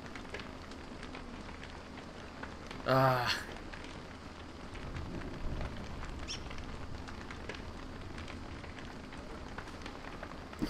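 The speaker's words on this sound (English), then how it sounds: "the rain seems to be slowing down a lot" Rain falls in the video game Don't Starve: Reign of Giants, an even patter under a brief vocal exclamation and game sound effects, with a low rumble partway through.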